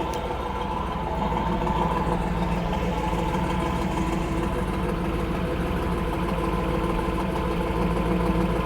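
A Chevrolet Nova Yenko Deuce, built from a base model Nova, idles steadily through its dual exhaust, a constant low rumble with an even throb and no talk over it.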